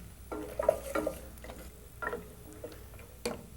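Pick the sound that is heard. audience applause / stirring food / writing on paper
stirring food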